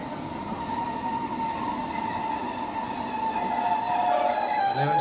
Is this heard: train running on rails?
yes